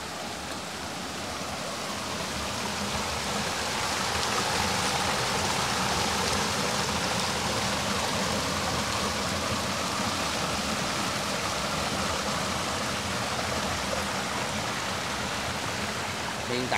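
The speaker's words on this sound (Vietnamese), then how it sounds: "Hiện tại bây giờ là nước suối cũng rất là mạnh luôn." A swollen mountain stream after a flash flood rushes steadily with a dense, loud broadband roar that builds slightly over the first seconds, while a voice speaks faintly underneath.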